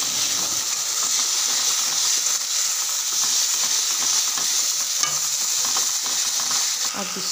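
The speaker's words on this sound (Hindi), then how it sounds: "इसमें मसाले को अच्छे से भून लेंगे।" Ground spices including garam masala, meat masala, turmeric and dried coriander roasting in a pan for sambar, giving a loud continuous frying hiss with faint stirring scrapes throughout and no voices.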